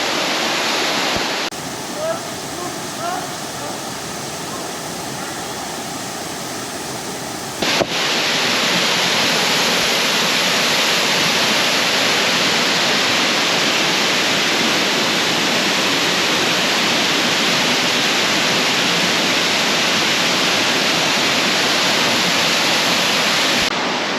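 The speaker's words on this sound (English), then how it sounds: "I think I'm going to swim under this waterfall right here." A forest waterfall thunders as a loud, unbroken roar of water, quieter and muffled for the first several seconds, then suddenly full and close for the rest.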